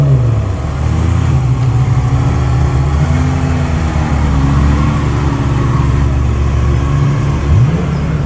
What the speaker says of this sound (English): Okay, so we're back in the line of the Ferraris here.